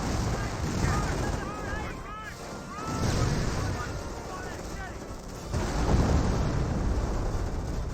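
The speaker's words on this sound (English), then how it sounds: "Hetzer firing away" A Hetzer tank destroyer fires in a Company of Heroes battle, its cannon booms rolling amid ongoing artillery and explosion noise, with a commentator talking over the din.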